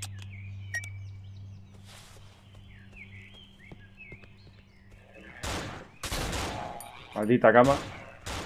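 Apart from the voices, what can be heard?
gunfire shooting at the player in video game Cry of Fear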